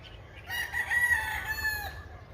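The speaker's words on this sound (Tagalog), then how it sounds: "Yan ang mga manok na inaalagaan ni Mami pang sabong." A single fighting cock crows up close, one long hoarse call rising and fading out, with soft rustling beneath.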